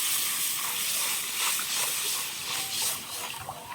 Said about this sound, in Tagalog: lutuin lang natin yung gata muna